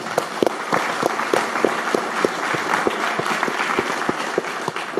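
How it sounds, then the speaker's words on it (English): An audience of self-directed Fidelity investors applauds steadily, a dense wash of many hands with some louder claps standing out near the front, sustained over the whole stretch without voices. "give yourselves a round of applause"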